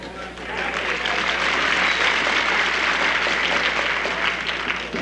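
A crowd at a wrestling match applauds, a dense steady wash of clapping filling the hall, loud and continuous throughout.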